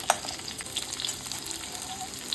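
Papaya strips for shukto sizzle lightly in a pan with oil, a short burst of steady close crackling and hiss.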